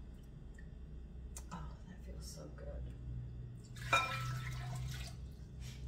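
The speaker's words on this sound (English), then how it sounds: "I'll pour cold water in it." Cold water is poured into a whole wheat bread dough mixture, giving a short, quiet splashing pour with faint drips and clicks while a person speaks nearby.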